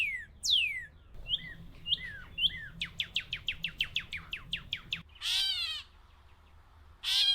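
A recording of Florida bird calls: sharp descending whistles and chirps, then a fast run of repeated rising notes, followed by two loud harsh bursts, all clear and close.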